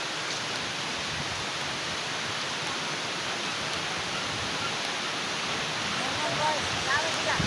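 A shallow stream runs steadily at a bathing spot, its broadband rushing water constant and fairly loud throughout, with faint voices now and then underneath.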